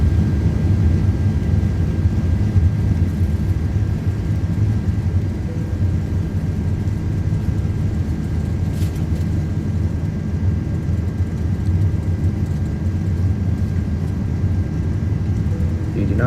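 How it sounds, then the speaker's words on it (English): Airbus A330 engines at takeoff power in a flight simulator departing Frankfurt, a loud, constant low rumbling roar that holds steady throughout, with a faint whine above it. "And toga set and take off."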